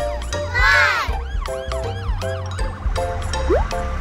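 An ambulance siren wails in a children's cartoon, loud and close, with rising and falling tones repeating over several seconds alongside bright electronic effects.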